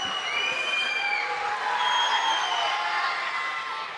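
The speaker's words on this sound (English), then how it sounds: "Jones knocks down the first, despite the noise from the crowd." A crowd in a school gym roars and shouts during a free throw at a boys' varsity basketball game, a continuous loud wash of cheering and shrill yells with some voices standing out.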